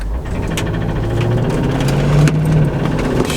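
A steady, close idle from an AMG Mercedes SUV engine with a failing ignition coil and a reported knocking noise, running as an even, continuous hum with no voices.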